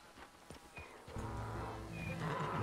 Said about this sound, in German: Gutes Pferd.